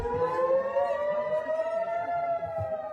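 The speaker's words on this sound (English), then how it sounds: "The sirens go off, and everybody ducks for cover." A wailing air raid siren holds a long, slowly rising tone, steady and loud, with faint background noise underneath.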